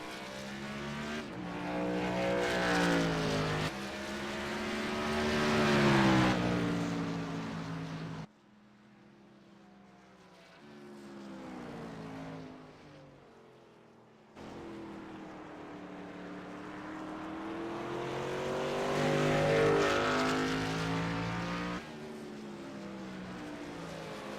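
Race cars roar past on an oval track during a long race, engines loud and rising then falling as they pass close, with a brief quieter lull midway before another pack sweeps by.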